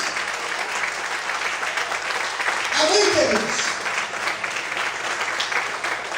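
Church congregation applauding loudly in praise during a Portuguese-language sermon, continuous dense clapping with a preacher speaking briefly over it midway.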